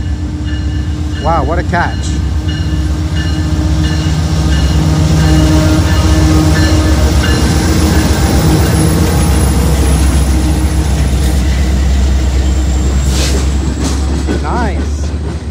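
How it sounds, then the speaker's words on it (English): A Canadian Pacific freight train rumbles past close by near a Dorval commuter station, a loud continuous roar with clanking wheels and a brief squeal, while a person speaks over it. "I think that's a freight train. CP, so I think that's Canadian Pacific."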